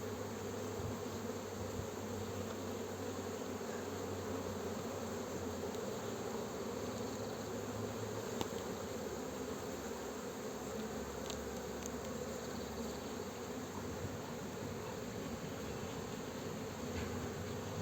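Honey bees buzz steadily around an open hive during a spring inspection in Muğla, Turkey, a dense, continuous drone close by with no talk over it.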